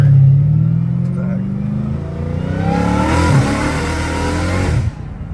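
A BMW M5 Competition accelerates hard, its engine note rising steadily through a gear and then cutting off abruptly, loud and close from inside the car, with excited talking over it.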